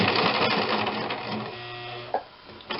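A sewing machine stitching fabric runs in short bursts with a fast mechanical whir, stopping and restarting as the seam is worked back and forward, fairly faint and close.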